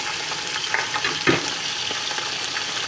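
Beef meat and bones fry in a pot, giving a continuous crackling sizzle with occasional stirring knocks and scrapes, close and moderately loud.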